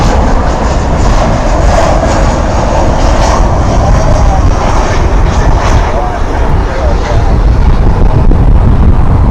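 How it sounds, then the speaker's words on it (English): An American Airlines Airbus A319 jet in Piedmont heritage livery lands, its engine roar a loud, steady broadband rumble that stays constant throughout. "Here comes a Piedmont livery, American Airlines jet."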